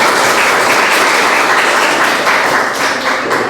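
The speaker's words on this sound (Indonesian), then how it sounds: "Tepuk tangan teman-teman." A class of schoolchildren applauds together during a lesson, producing loud, dense, continuous clapping that stays even from start to finish with no voices over it.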